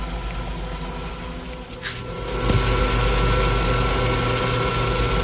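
A Brastemp 14 kg washtub prototype churns its load as the agitator turns, a steady mechanical whir and rumble with a clunk partway through, after which the motor drone grows slightly louder and continues.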